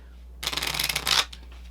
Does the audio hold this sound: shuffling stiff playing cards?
yes